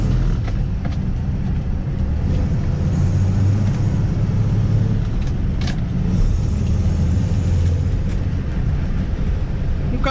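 A Willys/Ford Itamaraty classic car with a four-speed gearbox drives along, its engine giving a steady loud rumble with road noise and a few faint clicks and creaks throughout, with no talking.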